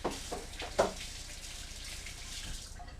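Hands are washed under a running kitchen tap, a soft steady stream of water with a brief louder splash near the start, heard close and without talk.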